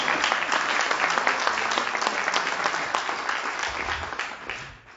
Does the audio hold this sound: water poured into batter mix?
no